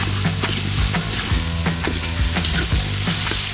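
Spice paste sizzles and fries in a wok with tempeh that has turned crisp, a loud, steady hiss broken by scraping stirring knocks close by.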